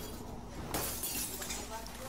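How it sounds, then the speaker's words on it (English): Glass shatters in a sharp, bright burst partway through, in Black Ops 3 Zombies on the Verruckt map, with a player talking over the game audio. "What, you can break through glass?"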